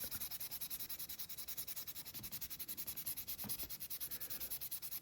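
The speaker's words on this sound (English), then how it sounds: "Let the sandpaper do what it's designed to do" Sandpaper rubbing over primer on a scale model, a rapid, even back-and-forth rasp repeating about ten times a second, close and continuous with no voices.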